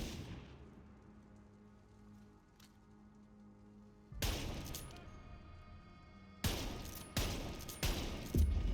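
Gunfire in Borderlands 3 aimed at the moon during the Onda Lilith boss fight breaks out after a quiet stretch as loud, close bursts of rapid shots, with several sharp volleys in quick succession near the end.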